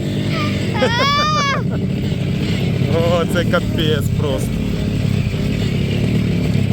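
A small pit bike motorcycle engine drones steadily and loudly while being ridden outdoors, holding an even, buzzing note throughout as people talk and exclaim over it.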